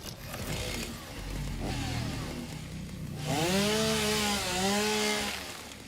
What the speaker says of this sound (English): Grab the old chainsaw again.